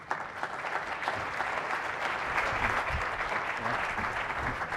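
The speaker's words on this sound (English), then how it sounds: "Please come on stage under the applause of the audience." Audience applause as panelists come on stage at an event on African innovation: dense, steady clapping from a large crowd, sustained and even throughout with no talk over it.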